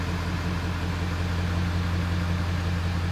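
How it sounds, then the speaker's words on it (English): A Ford F-350 with a 7.3L Power Stroke diesel, an old OBS truck fresh from an injector harness repair, idles steadily with a smooth, even rumble, close and constant throughout. "Idle's going real good."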